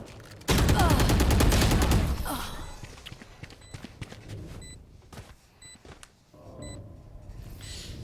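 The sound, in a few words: gunfire in Valorant video game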